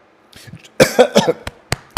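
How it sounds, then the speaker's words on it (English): Several sharp coughs in a quick cluster, close and loud, followed by two short isolated bursts after brief pauses. "I got the hiccups and I'm coughing at the same time."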